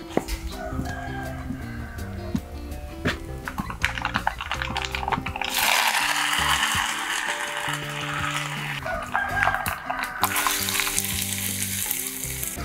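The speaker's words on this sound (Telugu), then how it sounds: "దీంట్లో కొంచెం తాలింపు పెట్టుకుందాం" Mustard seeds and cumin sizzle in hot oil for a tempering, a steady crackling hiss that swells loudly about halfway through, with background music playing underneath.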